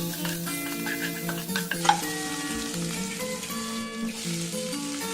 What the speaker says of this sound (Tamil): இதெல்லாம் எண்ணெயில் கொஞ்சம் நல்லா வதங்கட்டும்.